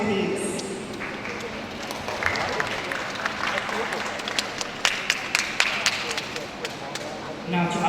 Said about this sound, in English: A warm applause for them, please.